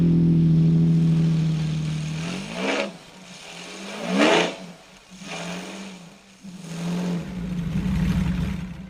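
Lamborghini V12 engine fitted in a motorcycle drones at a steady idle, then rises in several sharp revving sweeps before settling back into a loud, sustained roar, heard alone without voices.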